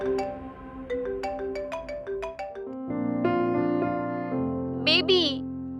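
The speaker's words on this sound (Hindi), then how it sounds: "तभी उसका मोबाइल फोन बजा।" Mobile phone ringtone in a Hindi audio drama, a bright melodic electronic tune of quick plucked notes that shifts into sustained synth tones and a warbling flourish, loud and clear on its own.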